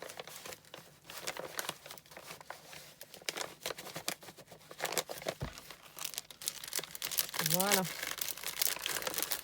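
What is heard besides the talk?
paper letter being folded back into an envelope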